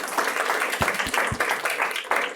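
Steady applause from a conference audience after a panel discussion on AI regulation, dense continuous clapping close and loud, with a few sharper individual claps standing out.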